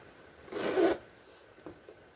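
A zipper on a Gucci Ophidia handbag is pulled once in a quick, close rasping stroke lasting about half a second, followed by a couple of faint soft handling clicks in a quiet room.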